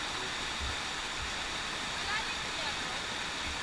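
Steady, rushing roar of Kaunayan Falls in the Philippines, loud and constant throughout with no breaks.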